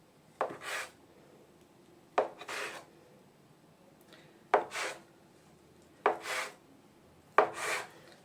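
Dough for cheese pastries being cut into three-finger-wide strips, five separate short scraping cuts spaced a second or two apart, close and quiet, with no talk.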